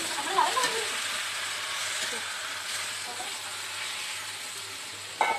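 Pumpkin greens fry in a pan with a soft, continuous sizzle while being stirred, a faint steady hiss running throughout and a brief clatter near the end.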